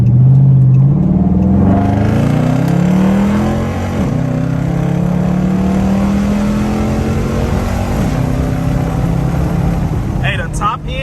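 A Chrysler 300 Hemi with all-wheel drive accelerates hard through a tunnel, its V8 engine note climbing in pitch through the gears with brief dips at each shift, loud and close throughout.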